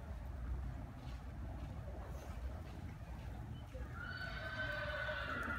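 A horse neighs and whinnies clearly toward the end, over a continuous low rumble and soft hoof clip-clop, at moderate distance.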